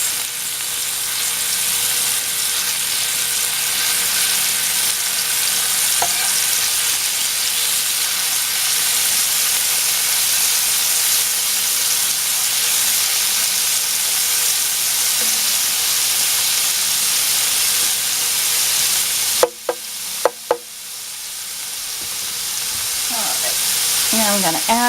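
Ground meat and aromatics sizzle steadily in a hot pan while being sautéed for a spaghetti meat sauce, a dense continuous fry with a few light clinks of stirring near the end.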